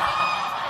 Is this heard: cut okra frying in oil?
no